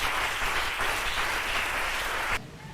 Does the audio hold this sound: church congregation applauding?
yes